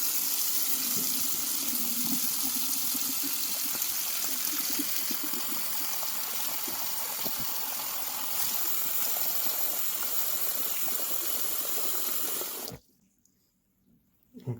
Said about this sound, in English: So let's run the water.